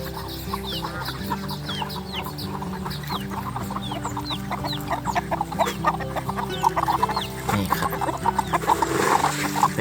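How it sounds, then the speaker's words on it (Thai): Betong chickens at feeding time, a flock clucking and calling continuously at close range, with a steady low hum behind and a brief knock or clatter near the end. "เดี๋ยวไปให้อาหารไก่กันเลยนะครับ"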